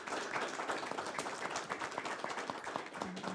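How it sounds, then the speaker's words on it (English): Conference audience claps in a room at the close of a day of talks on climate change and health, a brief, moderately faint round of applause with scattered hand claps. "I think we can all share in a round of applause for"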